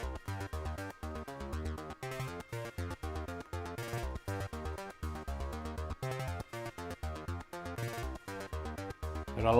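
Keys patch played from the Synthmaster synthesizer in an iPad AUM session: a busy, rhythmic sequence of chordal notes with ratcheting repeats and a steady pulse running the whole time, fairly quiet, no voices.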